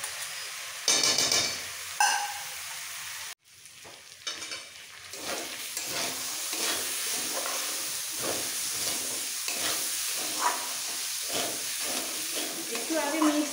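Ghee-coated, washed Gobindobhog rice stir-fried for khichuri, a steady sizzle with repeated scraping and clinking of a spatula in the pan, briefly interrupted by a short gap before the frying resumes.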